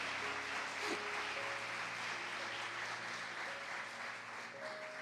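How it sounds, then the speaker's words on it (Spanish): Church congregation applauding during a Spanish-language sermon, a steady wash of clapping that holds evenly throughout at moderate distance, with faint sustained tones running underneath. "El aplauso al Señor."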